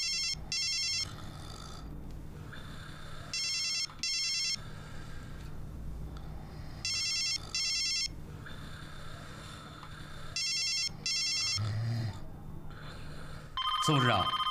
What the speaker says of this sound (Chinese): 长寿，你现在马上给林县长打电话，我给王局长打电话，双管齐下。